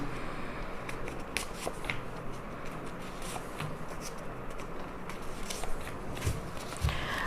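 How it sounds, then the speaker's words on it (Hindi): Tarot cards being drawn from a deck, heard as faint papery slides, flicks and taps spread across a quiet background with no talking. "मुझे 5 कार्ड्स चाहिए, सो मैं कुछ 5 कार्ड्स यहाँ से निकालती हूँ"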